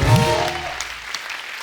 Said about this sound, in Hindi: एक बार सर के लिए जोर बड़ा तालियां हो जाए